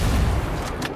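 A grenade launcher fires in Ghost Recon Breakpoint, a loud close boom with a rumbling low-end blast that decays over a second, followed by a faint crack.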